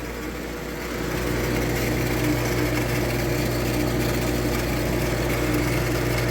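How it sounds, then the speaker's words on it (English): A household water pump runs continuously with a steady droning motor hum that grows slightly louder after the first second, then holds even and close with no one speaking. "So that pump is still running."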